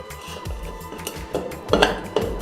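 Metal masala bowl set onto an automatic samosa machine: several close metallic clanks and scrapes with a few sharper knocks, and no voices.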